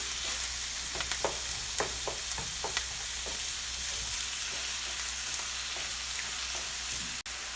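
Onions for a Kerala-style egg curry sauté in a pan, giving a steady close sizzle with light scraping stirs throughout.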